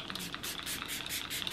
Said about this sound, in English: So I'm gonna spray it on my face just for a refresh.